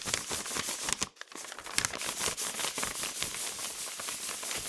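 Sheets of paper rustled and crumpled close by, dense crinkling bursts running continuously with one brief pause, loud and alone.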